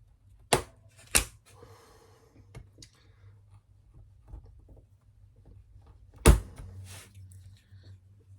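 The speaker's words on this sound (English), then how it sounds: "just cut these little knobs that you can see from where the laser has stopped" Small knobs are snipped off laser-cut wooden model ship parts in a quiet room, giving a few sharp isolated clicks and snaps spaced by seconds of near silence, with one louder crack near the end.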